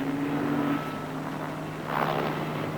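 A helicopter mustering cattle in a holding paddock gives a steady low drone with a faint tonal hum, distant and even, swelling slightly toward the end.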